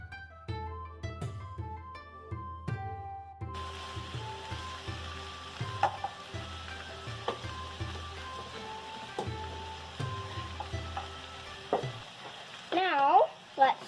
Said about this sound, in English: you can add a little soy sauce and then move it around so they're all coated in soy sauce